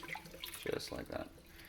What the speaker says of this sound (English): And then I'm going to just dump the water off the top.